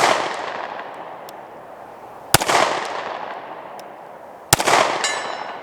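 Two sharp, loud shots from a SCCY CPX2 pistol fired at a 100-yard target crack out a couple of seconds apart, each followed by a long fading echo across an open range.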